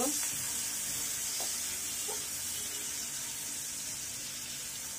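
Two large onions fry toward golden brown in a pan for a Bengali shrimp bhuna, giving a steady, soft sizzling hiss with a few faint stirring clinks, no voices.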